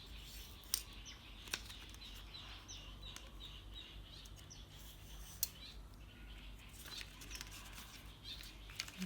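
A blade cuts paper laid over a protective sheet on a tile floor, making faint, scattered scratchy snips and clicks at irregular intervals against a quiet room background.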